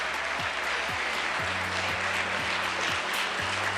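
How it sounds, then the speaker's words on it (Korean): An audience applauds at a government press briefing announcing national policy tasks: a steady, even wash of many hands clapping, moderately distant and unbroken throughout. "많은 분들께서 아마 감동 어린 박수를 보내주시고 계신 것 같은데요"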